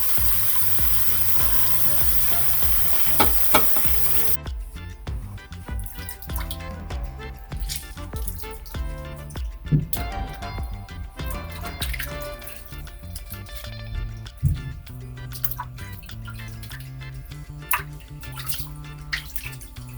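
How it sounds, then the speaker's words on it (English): Pork back ribs are washed and rinsed in water with vinegar, salt and lemon, giving continuous splashing, dripping and sloshing with scattered knocks and clatters, close and steady throughout. "Wash and rinse 3 times or more."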